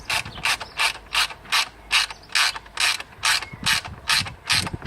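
A ratchet wrench tightens the last bolt on a mitre saw adapter plate, clicking in a steady run of about fifteen crisp bursts, close and alone.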